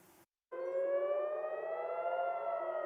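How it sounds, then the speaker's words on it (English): Air raid sirens blare during Iranian missile strikes on Israel late at night, a steady loud wail with layered harmonic tones that starts abruptly after a short gap and holds without a break. "Iranian missiles light up Israeli skies as sirens blared late Friday into Saturday morning."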